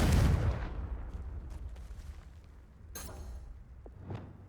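A Confringo blast spell fired in the Hogwarts Legacy video game, opening with a loud booming burst that decays into a rumbling tail, followed by fainter impact crackles and a sharper hit near the end.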